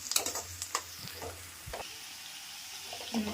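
Onions sizzle and fry in hot oil in a pan for chicken curry, with a soft steady crackle, some stirring scrapes and a few louder clinks near the start.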